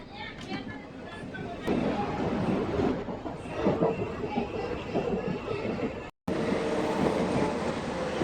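A passenger train running near Rayadurgam junction on a line under electrification, heard from inside a general coach, with a steady rumble and rattle of wheels over the rails and a brief dropout near the end.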